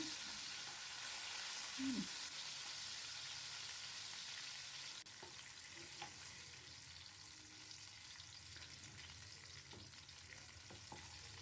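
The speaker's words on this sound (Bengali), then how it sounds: "এরকমভাবে আমি সমস্ত মাছগুলোই ভেজে নেব" Pomfret fish frying in a pan, a faint, steady sizzle with light crackle that runs throughout, broken only by a brief clink early on.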